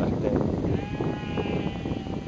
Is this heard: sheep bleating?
yes